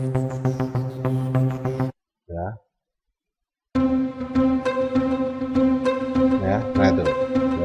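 The After Midnight 2 preset of the Nexus synthesizer plugin plays layered, sustained chord tones. There is a brief gap with a short vocal blip, then the pad resumes and carries on steadily to the end.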